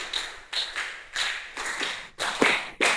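A class of students plays a clapping rhythm game, clapping a set of five twice over in quick unison strikes, a run of about ten crisp, close claps with a short pause between sets.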